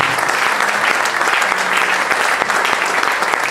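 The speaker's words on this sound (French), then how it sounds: "So I'll give the Holy Spirit a clap of praise." A church congregation at a Sunday service in Lomé, Togo claps in praise, a dense, loud burst of applause that fills the room without pause.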